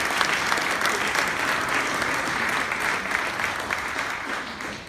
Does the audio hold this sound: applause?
yes